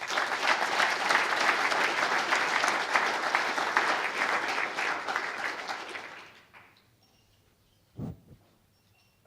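A conference audience applauds the organising committee at a closing session, with sustained clapping from a crowd that fades out after about six seconds, followed by a brief low thump near the end.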